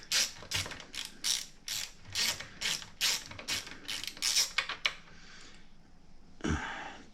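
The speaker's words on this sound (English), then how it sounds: "that's what I have on the ratchet" A ratchet wrench fitted with a 7/16 socket clicks in a quick rhythmic series of bursts, close and crisp, then pauses before one last short run of clicks; no one speaks.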